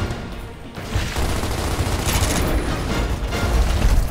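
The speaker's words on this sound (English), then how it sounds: "Shoot down the wall." Sustained volley of gunfire in Gears of War as a wall is shot down, dense overlapping shots and booms running nearly nonstop and loud throughout.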